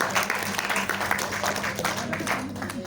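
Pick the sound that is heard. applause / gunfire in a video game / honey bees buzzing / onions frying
applause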